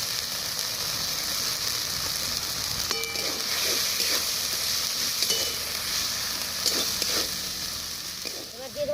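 Ground spices with turmeric, green and red chilli paste and chopped tomato sautéed in a pan for a thin country chicken curry, giving a steady close sizzle with scraping stirs throughout.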